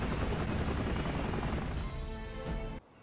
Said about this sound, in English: If you had those four choppers around the corner, why didn't you help?